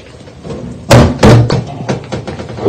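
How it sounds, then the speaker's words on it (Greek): Cooking pot lid being handled in a kitchen while a meat and peas stew with carrots cooks, a couple of loud metallic clanks followed by lighter knocks and taps. "Ανοίγουμε την κατσαρόλα."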